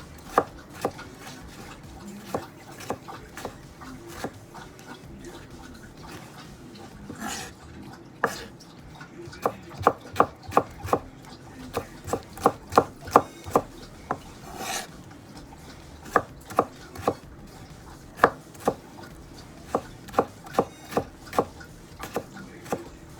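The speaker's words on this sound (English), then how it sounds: "Stack them, cut it into cubes." Tomatoes are diced into cubes with a knife on a cutting board for lomi lomi salmon, giving a series of close, crisp chopping taps that come in quick bursts with short pauses.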